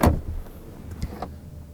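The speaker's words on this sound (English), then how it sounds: "these sliding doors, electrically operated, of course, and they don't open wide like a normal car door" Electric sliding door on a Mercedes EQV van: a short motorised whir and latch thud up front, then a couple of faint mechanical clicks, heard close with no talking.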